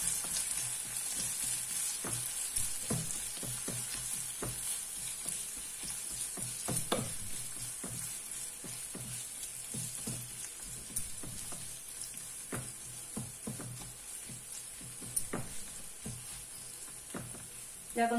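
Fried onion and ham crackling in a pan, a continuous soft sizzle under frequent light scraping and tapping of a utensil as the mixture is stirred, steady and close throughout.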